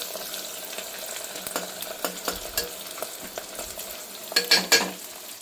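Onions fry in a pan for vegetable pulao with a soft, steady sizzle broken by repeated spatula stirs and scrapes that grow louder toward the end.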